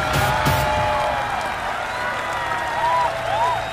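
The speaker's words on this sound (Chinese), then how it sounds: "再一次用热烈的掌声欢迎他们" A live crowd applauds and cheers to welcome two esports teams at a professional league match venue, with music and a host's voice running over the steady clapping.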